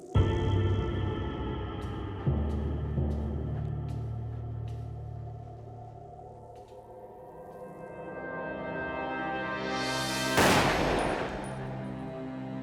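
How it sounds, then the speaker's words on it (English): A dramatized scene of a gun held to a child's head: heavy booming shots open it, then a series of sharp cracks, droning low rumble, and a loud swelling whoosh-like blast near the end. "shot each of them by holding the gun to their heads"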